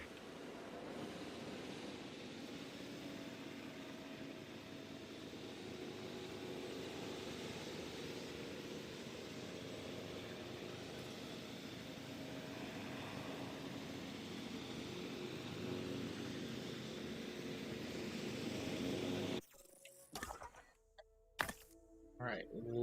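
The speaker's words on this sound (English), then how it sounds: "So let's drop them in via airlift." A steady propeller-aircraft drone in the Jurassic World Evolution 2 video game, as dinosaurs are airlifted in, runs loud and continuous under soft game ambience, then cuts abruptly near the end to scattered interface clicks.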